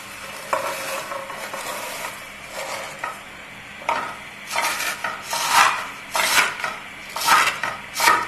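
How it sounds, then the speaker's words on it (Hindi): Vermicelli roasts in desi ghee in a pot while a spoon stirs and scrapes, giving irregular close clinks and scrapes over a soft sizzle. "इसमें सेवियों को मैं भून लूँगी। अच्छे से भूननी है सुरख होने"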